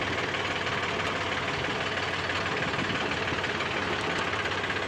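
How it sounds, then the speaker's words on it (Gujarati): A loaded Sonalika tractor engine running steadily on a farm, a dense, continuous low chugging rumble with an even knock, loud and close with no let-up and no voices. "એ ટ્રેક્ટર ભરાઈ ગયું છે, જાય આપણે લગાડીએ"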